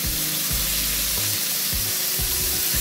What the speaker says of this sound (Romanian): Eu voi turna untul într-o tigaie încinsă.